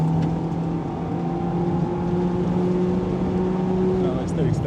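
Mazda Roadster ND5RE on Asan Circuit holds a steady engine drone under acceleration, heard from inside the cockpit at a constant loud level, with the tone dropping briefly at the end.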